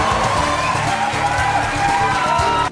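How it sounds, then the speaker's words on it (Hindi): A crowd on its feet cheers, whistles and claps to greet Shah Rukh Khan, a dense, steady roar of voices and shrill whistles filling the whole moment at close range, with music-like tones running underneath. "लोग खड़े हुए, सीटियां बजाई, तालियां बजाई और शाहरुख खान का अभिवादन किया।"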